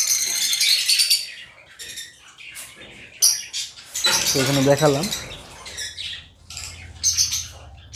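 Caged African lovebirds give bursts of high chirps and squawks that come and go under steady nearby talking.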